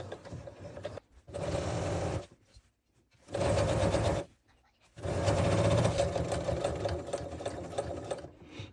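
A sewing machine stitches a quilt binding seam in three close, steady bursts of whirring, each a second or more long, separated by brief silent pauses, with no talking.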